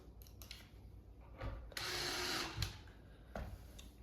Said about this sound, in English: we're just going to install screws into these little pocket holes